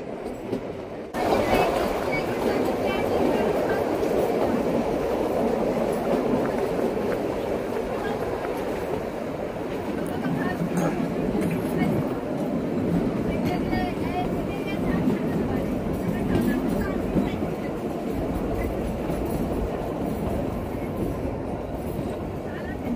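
The Shimla toy train runs on the narrow-gauge Kalka–Shimla line through pine-covered hills, a continuous loud rumble and rattle of wheels and carriages heard from on board, with voices faintly underneath.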